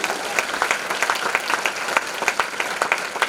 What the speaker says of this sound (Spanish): Dale un aplauso a esa palabra de Dios